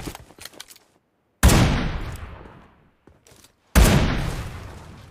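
AMR sniper rifle in BGMI firing two heavy, booming single shots a few seconds apart, each loud and close with a long fading tail, preceded by faint game clatter.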